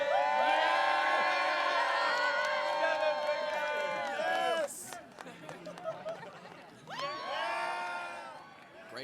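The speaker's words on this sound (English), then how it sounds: "Another big crowd here today." Crowd at the 2014 men's ultimate frisbee national championship game, a steady roar of cheering and whooping voices that dips briefly mid-clip and then swells again, loud and close.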